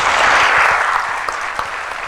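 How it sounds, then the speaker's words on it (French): A studio audience at a French talk show claps in a dense, sustained burst, loud and close, tapering slightly toward the end. "applaudissements"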